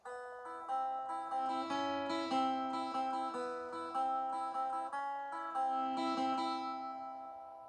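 A plucked guitar plays a repeating melodic intro riff, each note ringing clearly over steady picking, with no voices.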